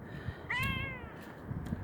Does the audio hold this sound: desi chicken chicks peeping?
no